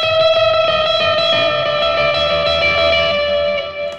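A sustained electric guitar chord through a Line 6 Helix reverb preset rings out, smeared into a dense, washed-out reverb wash that holds steady before slowly fading.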